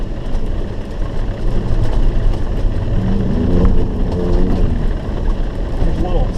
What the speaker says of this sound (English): let's get some off-road stuff about 40 miles an hour